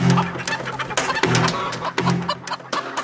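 A cartoon chicken clucks in short, loud bursts, about three or four clucking phrases spaced roughly a second apart, close and alone with no talk.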